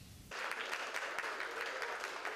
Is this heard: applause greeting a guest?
yes